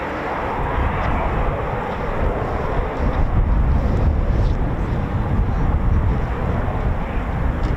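A Eurofighter Typhoon FGR4 jet engine spools up at RAF Coningsby, a broad continuous roar that swells louder partway through, with wind buffeting the microphone throughout.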